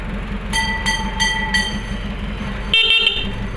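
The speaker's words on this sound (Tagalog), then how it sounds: "Paganahin mo nga pati yung busina" Several short horn honks from an owner-type jeep in quick succession, followed by a brighter, louder blast near the end, all over a low engine idle.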